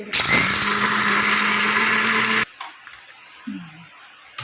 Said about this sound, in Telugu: దాంట్లోనే డైరెక్ట్ పల్లీలు వేసుకొని మిక్సీ పట్టుకోవాలి